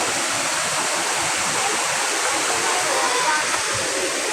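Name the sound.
Daranak Falls waterfall in Rizal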